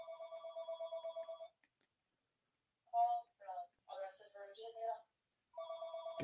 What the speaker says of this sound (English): parents' house phone is ringing